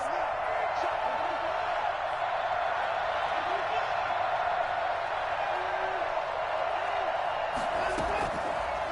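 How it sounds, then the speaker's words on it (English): Football crowd at Arrowhead Stadium, a dense, continuous roar filling the stadium, loud and steady throughout with faint voices woven in. "this is where the Arrowhead crowd can make it very tough"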